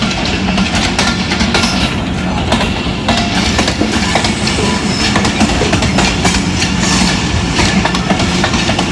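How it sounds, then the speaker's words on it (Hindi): Pakistan Express train passing on a single-line loop at Chak Pirana, a loud, steady roar of rail wagons with clattering wheels and occasional squeal, continuous and close throughout. "हाँ जी, पाकिस्तान एक्सप्रेस है। पाकिस्तान है।"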